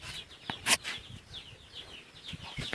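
Chickens, roosters and young hens on a farm cluck and chirp in short scattered calls, fairly close, with a sharper squawk near the start and no talk.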